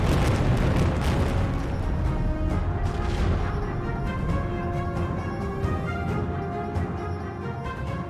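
A violent string of bombs explodes along a military convoy line after release from a bomber, a long sustained roar of overlapping booms and rumbling that fills the whole stretch and slowly fades, with no talk.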